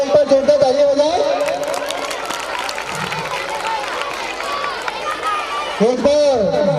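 A school audience bursts into loud applause at an annual function before a play, a dense wash of clapping and crowd noise swelling between an announcer's voice at the start and end.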